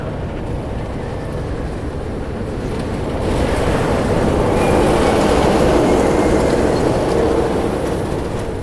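A roller coaster train at Walibi Holland gives off a loud, continuous rushing roar that swells partway through and holds steady, with no voices.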